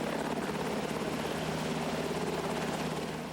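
An air force rescue helicopter flies over a mountain area with a loud, steady rotor thump and engine roar that fills the whole moment without a break.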